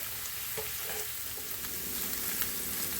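Mushrooms fry in a pan until crispy, a dense continuous sizzle heard close and fairly loud, with a few faint clicks of stirring and no talk.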